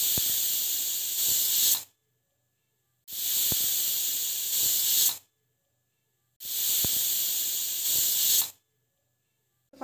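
Three loud bursts of hissing steam from a pressure cooker whistle, each lasting about two seconds with silent gaps between them.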